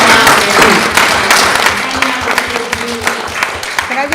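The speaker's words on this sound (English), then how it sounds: "we clap for all of us, but I think we need to clap for Malcolm also" Meeting attendees at a school board equity, diversity and inclusion committee session applaud together for Malcolm: a steady, dense wash of clapping that carries through the whole stretch, loud and close, with some voices mixed in beneath it.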